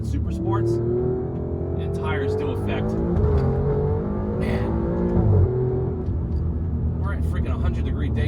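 An Alfa Romeo Giulia QV on Pilot Super Sport tires accelerates hard on a hot, humid day, its engine note climbing through rising sweeps and gear changes while a person talks over it from inside the cabin.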